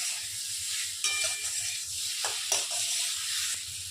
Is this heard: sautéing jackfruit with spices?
yes